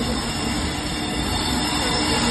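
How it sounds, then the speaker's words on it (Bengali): A train pulls into a station with a loud, sustained rumble and high steady wheel squeal, continuous and close, with no talk. "আমাদের ট্রেন এসে গেছে টাইমে"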